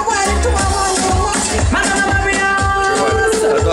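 A DJ spins reggae music at the Rototom reggae festival in 2011, a dense, loud mix of bass, rhythm and melody filling the air continuously in an open crowd setting.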